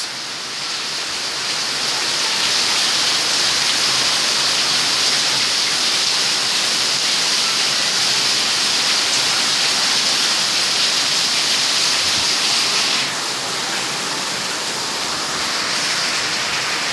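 A loud, sustained roar of downpour and gusting wind sweeps over a Konkan village, a thick, unbroken wash of rain noise that barely changes for about seventeen seconds.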